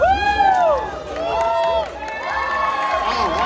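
A crowd at a One Piece convention panel in Florida cheers and shouts loudly, with excited high voices rising and falling in waves for a few seconds.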